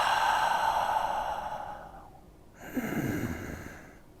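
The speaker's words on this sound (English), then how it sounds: "Breathe in through their nose, pause, breathe out longer than they just breathed in, pause, and then breathe in again." A slow breathing exercise: a steady airy inhale through the nose, a brief pause, then a softer, longer exhale through the mouth, close and quiet with a faint background hiss.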